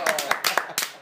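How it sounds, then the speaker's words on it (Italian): A few sharp hand claps ring out in a short burst, close and moderately loud, with no voices. "Grandi, un applauso, grazie."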